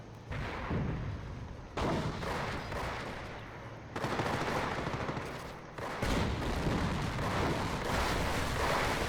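Anti-tank gun fire against a StuG assault gun in the Company of Heroes game: a dense, loud battle din of repeated heavy booms and gunfire, with sharp blasts near 2, 4 and 6 seconds and no voices.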